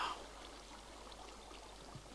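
Flowing water in Minecraft, a faint steady hiss of trickling stream noise that continues evenly throughout the short stretch, with no voices over it.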